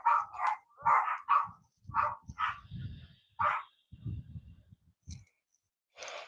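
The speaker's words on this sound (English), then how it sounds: "Sorry about the dogs barking in the background." Dogs bark in repeated short bursts, fairly close and loud, with a few yips between; a brief pause comes near the end before another bark.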